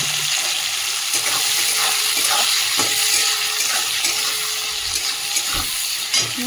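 Chopped onion frying in hot oil with whole spices gives a steady, dense sizzle and crackle, with occasional stirring knocks and scrapes against the pan.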